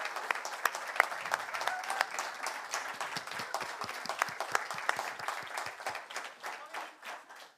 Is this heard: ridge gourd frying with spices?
no